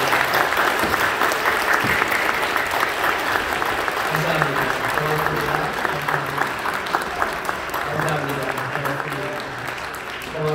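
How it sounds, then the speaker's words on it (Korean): Sustained applause from a church congregation welcoming three newly ordained deacons at a Korean service at Incheon Full Gospel Church, steady and dense throughout, with a low hum or voice-like tones under it in the second half. "여러분들 뜨겁게 환영해 주시고 또 함께 즐거운 박수로 영광 올려드리면 좋겠습니다"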